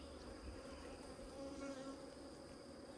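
Honey bees droning steadily around open beehive boxes during a sourwood nectar flow, a continuous even outdoor hum with no pauses.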